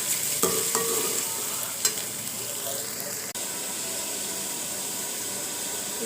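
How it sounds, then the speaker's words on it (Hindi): Tomatoes frying in a pan with ginger-garlic paste for Pakistani beef pulao, a steady close sizzle and hiss throughout with a few soft clinks of stirring. "अब टमाटर को अच्छी तरह से पकाना है।"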